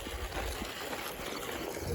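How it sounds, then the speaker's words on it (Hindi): Irrigation water pours steadily into a farm field, making a continuous rushing wash that holds at an even level throughout with no voices. "ये खेत में जा रहा पानी"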